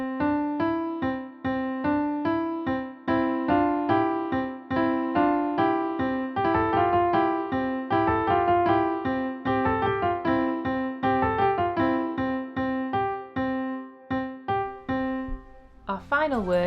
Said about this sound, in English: Canon means where you play the same melody slightly after the first time it's played